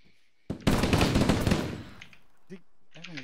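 Rapid automatic gunfire in the military video game ARMA 3 rattles loud and close for about a second, then tails off while voices speak briefly afterward.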